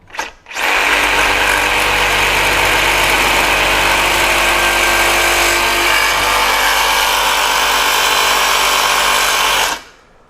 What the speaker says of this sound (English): We're going to cut some 1/8 inch thick angle iron.